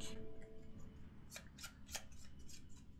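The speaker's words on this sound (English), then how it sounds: "let's shuffle up the deck" A deck of board game cards for The Lord of the Rings: Journeys in Middle-earth being shuffled, a quiet run of crisp riffling bursts over a low background, with no talking.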